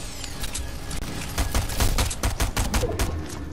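An SMG in the video game Fortnite fires in rapid, sharp bursts that grow denser and louder toward the end, loud and close with no talking.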